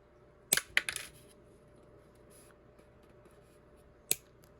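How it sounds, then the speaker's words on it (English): Plastic chassis of a Hot Wheels 1964 Impala lowrider model being cut: a few sharp, close snips and clicks, a cluster near the start and one more after a pause, over quiet background. "So I start by cutting it this way, and then turn it around"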